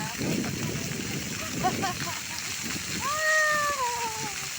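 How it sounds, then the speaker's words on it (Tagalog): A fountain at The Pearl in Doha runs continuously with a steady splashing wash of water, while voices and a brief high chirp sound nearby. "meron pa rin fountain dito. Pero dire-diretso ang tubig niya."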